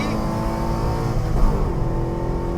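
Alfa Romeo 4C race cars passing one after another at Spa, a steady loud engine roar with rising revs, close and continuous with no talk.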